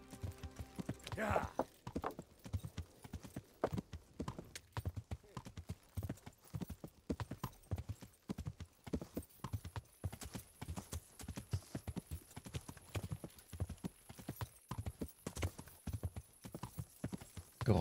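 Horse hooves clip-clop in a steady trotting rhythm while riding in the medieval game Kingdom Come: Deliverance, close and continuous, with people talking over the hoofbeats.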